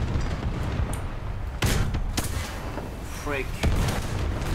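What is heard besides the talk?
artillery fire in a video game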